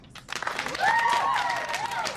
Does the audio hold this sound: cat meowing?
no